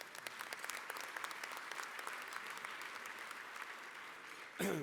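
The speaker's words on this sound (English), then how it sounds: "Another round of applause for Vince Lombardo." A luncheon audience claims a steady, fairly distant round of applause for a volunteer organizer, ending in a brief louder burst.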